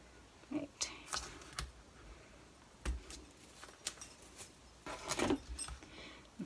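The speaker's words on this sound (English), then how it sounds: "Peel off the backing." Backing strip peeled off double-sided score tape while assembling a card-stock envelope gift card holder: a series of short, crackly ripping bursts, some clustered and some spaced apart, close and fairly quiet with no talking.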